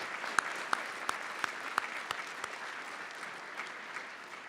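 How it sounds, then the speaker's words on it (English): Faint applause from the audience at the 2015 Honors Convocation, a 50th anniversary celebration: a steady wash of distant clapping with a few sharper individual claps standing out at a regular pace. "give ourselves a big round of applause in this 50th anniversary celebration of 2015"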